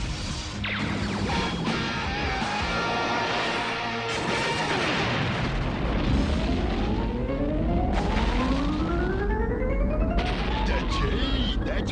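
A chaotic stretch of loud crashes and booming bomb blasts, with whooshing, rising tones and continuous clatter over a dense background, from a cartoon.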